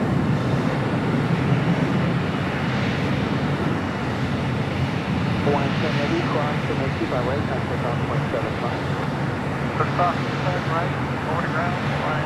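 An Alaska Airlines jet passes by with a continuous broad engine roar, fairly loud and steady throughout, while a voice talks over it.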